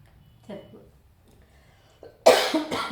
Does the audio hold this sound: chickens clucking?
no